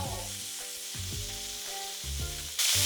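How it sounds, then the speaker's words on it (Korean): Korean hanwoo beef sizzles steadily on a grill in Gangwon Province, a loud continuous frying hiss with a few scraping stirs and clicks, and no talk. "한우는 살짝만 구워서 바로 먹어주는 거 아시죠?"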